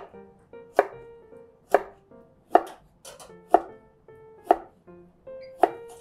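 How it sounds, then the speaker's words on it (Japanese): A knife cuts washed burdock root diagonally into slices about 5 mm thick for chicken-chicken gobo. Seven crisp, evenly spaced chops land on a cutting board, each one close and sharp against a quiet background. "でこれをね、こう斜め、だいたい5ミリ厚さぐらいのこういう斜め薄切りね"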